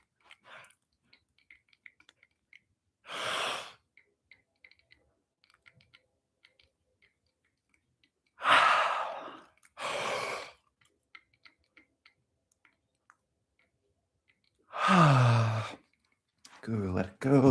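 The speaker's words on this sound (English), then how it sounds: "Best practice, yawning." Several long, breathy yawns during a guided fascia movement session, each a broad airy exhale lasting about a second, spaced apart with quiet pauses and small clicks between them, the later ones deeper and more voiced.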